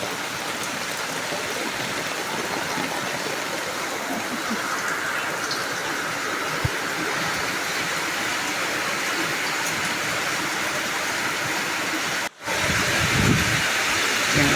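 Heavy rain pouring down steadily outside a house, a dense continuous hiss of water with no letup, close and even in level, with a brief dropout near the end.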